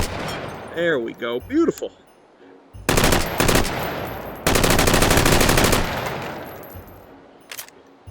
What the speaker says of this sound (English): we're just gonna fire off a rail and hope we actually hit something off a rail